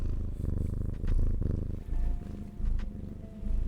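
A pet cat purring close by, a steady low rumbling that swells and fades in rhythmic cycles for a few seconds with no talking.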